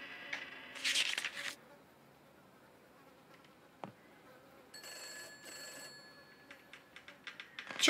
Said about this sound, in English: Sure, let's go get the phone.